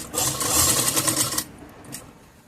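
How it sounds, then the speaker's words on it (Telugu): A sewing machine stitches a zipper pocket onto trousers, running in a steady, close, buzzing whir for over a second before stopping, leaving quiet fabric handling. "ఇప్పుడు కుట్టు వేసేసుకుందాం. ఇక్కడ నుంచి స్టార్ట్ చేద్దాం."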